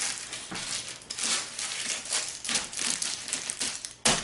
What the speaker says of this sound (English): we're going to wrap this tightly in aluminum foil